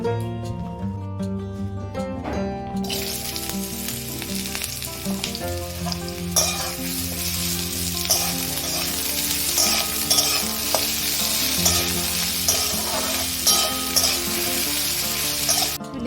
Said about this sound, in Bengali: তো চল আলুটা ভাজা স্টার্ট করে দিই